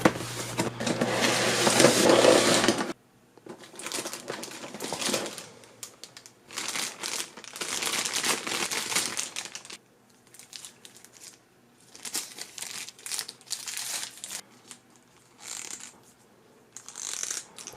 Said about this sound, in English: let's go ahead and get the X-Acto knife and get this opened up